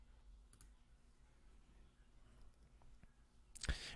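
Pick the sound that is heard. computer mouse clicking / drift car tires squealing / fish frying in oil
computer mouse clicking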